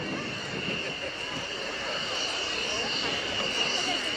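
A Eurofighter Typhoon jet at an airshow at RIAT Fairford makes a steady, distant roar that rises slightly in loudness, with commentary spoken over it.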